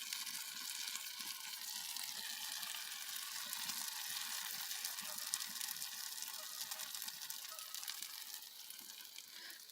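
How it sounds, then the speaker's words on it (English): Steady crackling sizzle of a small campfire burning twigs in a little foldable twig stove on a backpacking trip, a continuous dense hiss with fine pops, close and fairly quiet, with no voices. "Something is sizzling."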